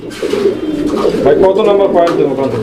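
A male pigeon coos in a continuous rolling, throaty call, close by and fairly loud, with other birds and a voice faintly in the background.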